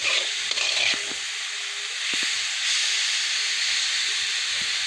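Radish greens being tempered in hot oil give a steady loud hiss and sizzle, with a few faint knocks of stirring in the pan throughout.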